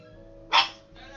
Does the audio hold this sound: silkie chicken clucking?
no